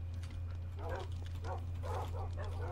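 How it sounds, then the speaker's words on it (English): Dogs in Minecraft on the Dream SMP server give a few short, soft barks and yips in a steady run over a constant low hum, with talk nearby. "Are we just keeping the dogs here for tomorrow?"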